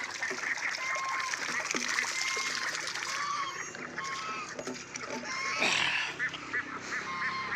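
White Pekin ducks honk and quack near and fairly loud over a light trickle of water as they are let into a freshly filled water tub on a farm.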